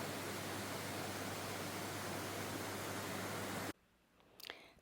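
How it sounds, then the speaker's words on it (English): Steady broadband rush of ocean water moving beneath a beachfront resort in Phuket, Thailand, heard at sunset, loud and continuous before cutting to quieter ambience near the end. "as you hear the rushing of the water underneath"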